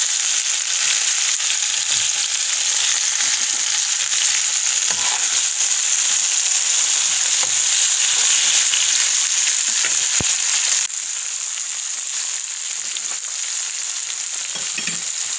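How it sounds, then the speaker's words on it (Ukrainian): Mushrooms fry in a pan with salt and spices, a loud, steady, hissing sizzle with occasional soft stirring knocks, easing slightly toward the end. "добавляємо солі і спайки і обжаримо"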